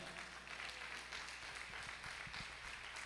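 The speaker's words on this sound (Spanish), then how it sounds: "Vamos a dar una ofrenda de palmas." A church congregation claps together during a service, a quiet, distant and continuous patter of many hands that keeps going at an even level.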